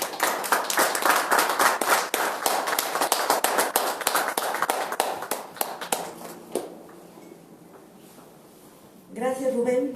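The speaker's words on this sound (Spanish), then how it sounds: "Un aplauso." A church-town audience applauds with brisk, dense clapping for about six seconds before it thins and dies away, followed by a voice speaking.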